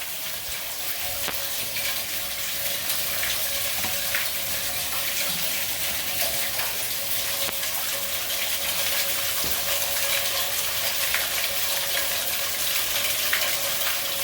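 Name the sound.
water filling a bathtub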